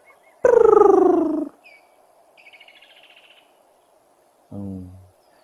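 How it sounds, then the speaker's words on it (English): Woodland kingfisher in African bush calling, a loud harmonic trill-like call descending over about a second, followed by fainter chirps and a second shorter call, over a steady background of crickets. "There's the woodland kingfisher."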